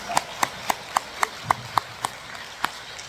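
Worshippers at a church service clap together in a steady rhythm, around ten crisp claps spaced evenly, with a faint voice under the beat.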